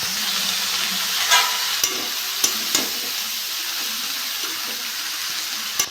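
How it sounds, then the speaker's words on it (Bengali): Cabbage and carrot frying in a pan under a steady sizzling hiss, with a spoon scraping and knocking against the pan several times as the vegetables are stirred. "বাঁধাকপিটা নেড়ে চেড়ে নিয়েছি।"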